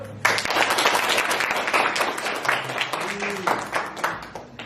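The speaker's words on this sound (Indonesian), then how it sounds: "Oke, tepuk tangan dulu" A classroom of adult trainee teachers at a teacher-training session claps together in a dense, steady round of applause lasting several seconds, with a few voices faintly mixed in.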